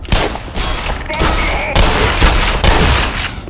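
Loud, dense gunfire with bursts of rapid shots and a booming grenade blast in the Black Mesa shooter game, continuous and close with no pauses.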